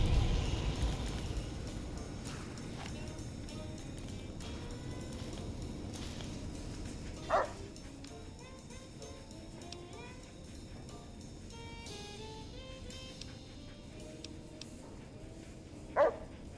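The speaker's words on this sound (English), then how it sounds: "Robot dog." A robot dog in the Fallout New Vegas Old World Blues game gives a few short, sharp barks against a low ambient game background, with two louder bursts standing out a few seconds apart.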